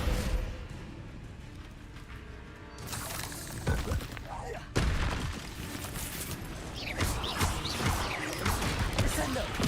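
Spell impacts from Descendo in Hogwarts Legacy, a series of loud shattering crashes and slams at about 3 and 5 seconds followed by busy clattering effects, with a voice talking over the action.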